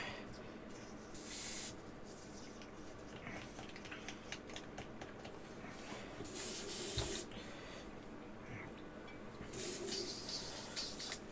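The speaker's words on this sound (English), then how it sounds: "So I'll ditch that out the airbrush." Airbrush spraying paint onto a Legion scale model in bursts, with three louder hissing blasts standing out over a steady background of softer hiss and small handling noises.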